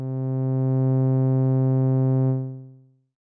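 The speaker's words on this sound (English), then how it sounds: "As I switch over to 3-pole, the sound is slightly brighter" A Doepfer A-106-6 XP filter in 3-pole low-pass mode shapes a sustained synth tone into a steady, harmonically rich hum. The tone holds evenly for a couple of seconds and then fades smoothly out, with no talking.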